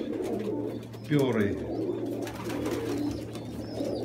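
A large, sturdy domestic pigeon coos once in a brief, deep rolling call close by, set against steady background noise with someone talking around it.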